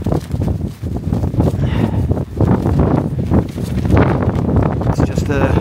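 Strong wind buffets a camping shelter on a wild, exposed hillside, a steady roaring rush with gusting surges and flapping, under close talk from people nearby.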